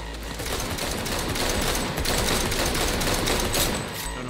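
Sustained automatic gunfire rattles through a Cyberpunk 2077 video game firefight, a steady loud barrage of rapid shots with brief swells, close and unbroken from start to finish, with no talking over it.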